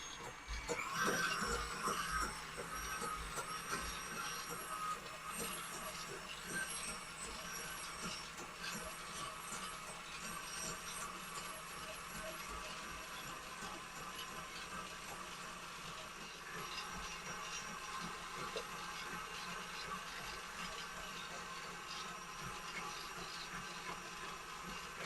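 An electric mixer whips cream into homemade butter, with a steady whirring motor hum and a constant churning rattle running close and loud the whole time.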